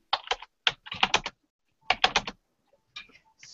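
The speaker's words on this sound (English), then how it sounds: "Your keyboard needs oil." Typing on a squeaky computer keyboard, heard as short bursts of rapid clattering keystrokes in several separate clusters with brief pauses between them, fairly close and alone without talk.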